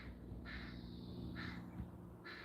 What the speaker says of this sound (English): He's listening to the crows.